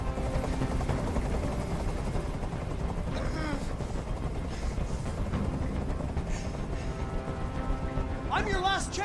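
A hovering helicopter in a tense hostage standoff drones in a steady, loud rotor rumble that fills the whole stretch, with voices speaking over it.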